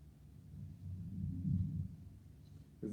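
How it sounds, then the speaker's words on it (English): A low, distant thunder rumble swells and fades over a couple of seconds, deep and muffled, with a short noisy burst at the very end. "Is that thunder?"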